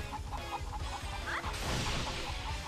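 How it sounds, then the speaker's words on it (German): Chickens in the Hyrule Warriors video game cluck in a busy, repeated rhythm over background game sound, with a brief crash-like burst midway. "Hauptsache, diese Hühner laufen hier amok."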